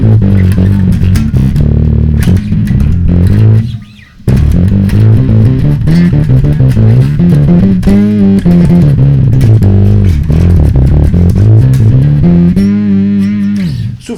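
A bass guitar plays a steady riff through a gritty overdrive, loud and close, with a short pause near the start and no talking.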